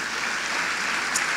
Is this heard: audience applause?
yes